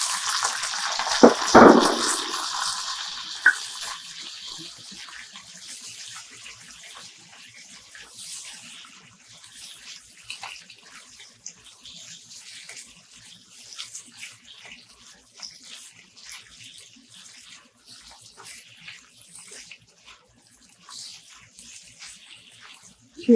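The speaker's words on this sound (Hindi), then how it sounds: "श्रिम्प को अच्छी तरह से फ्राई करेंगे जब तक इसमें से अच्छी सी खुशबू ना आए और तेल सेपरेट ना हो जाए" Shrimp frying in hot oil for kung pao shrimp, a brief loud sizzle at the start that settles into a soft, steady crackle and hiss for the rest.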